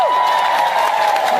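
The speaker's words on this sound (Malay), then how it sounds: "Tepuk tangan untuk binaan." Audience at a religious lecture breaking into applause and cheering, a dense burst of clapping with crowd noise and a steady ringing tone running through it.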